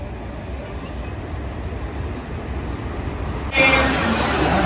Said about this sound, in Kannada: ಅಷ್ಟ್ರಾಗೆ ನಮ್ಮ ಟ್ರೈನ್ ಬಂತು ನೋಡ್ರಿ.